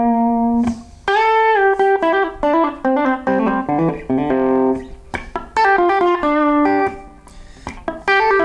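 Electric guitar playing the fast main solo riff, a quick run of bright, clean picked notes in rapid bursts, loud and close with no talking.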